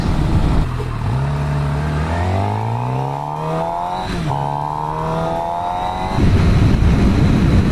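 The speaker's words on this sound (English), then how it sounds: "So I'm actually really happy with the stock exhaust." A 2017 Suzuki GSX-R 750 sport motorcycle engine pulls through the gears with its stock exhaust, revs rising, dipping at a shift, then climbing again before easing off.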